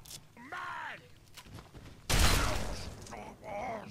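A gun firing in the video game Fallout 3, with one loud, sharp blast in the middle and fainter mechanical clicks around it, heard between bursts of speech.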